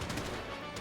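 Rapid bursts of gunfire in the GTA 5 role-play video game during a shootout, a dense, continuous crackle of shots filling the short moment without any talk over it.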